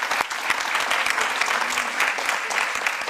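An audience in Paris applauds Comédie-Française actress Françoise Gillard, with dense, steady clapping filling the whole span at moderate volume.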